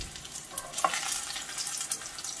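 Potato and tuna patties frying in shallow oil, a steady bright sizzle with occasional sharper pops and crackles, close and continuous with no talking.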